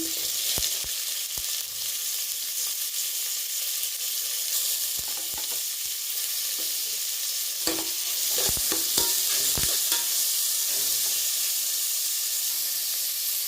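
Tomatoes cooking with softened onions and curry leaves in a pan, a continuous hissing sizzle broken by sharp clacks and scrapes of stirring that cluster toward the end.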